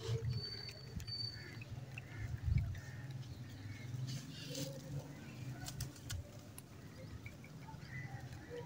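Pigeons coo softly and repeatedly on a rooftop amid a muffled, busy background with scattered light knocks and rustles.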